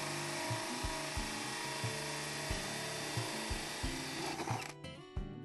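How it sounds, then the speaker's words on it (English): A 2¼-inch hole saw on a power drill cuts into 3-inch PVC pipe, giving a sustained grinding whir with a regular pulsing rhythm, close and steady, before the drill slows and stops near the end. "We started by using a 2¼-inch hole saw to cut into 3-inch diameter PVC pipe."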